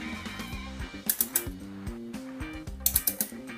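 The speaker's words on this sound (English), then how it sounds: "I already put my torque wrench to 15. And let's tighten it" A torque wrench slowly tightening a Brompton folding bike's seatpost bolt, a close run of quiet ratcheting clicks in uneven bursts.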